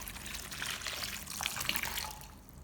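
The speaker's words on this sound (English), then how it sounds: "Then pour in enough clean water to completely cover the okra." Clean water pours over okra in a bowl, a steady trickling, splashing stream running throughout, moderately loud and close with no talk.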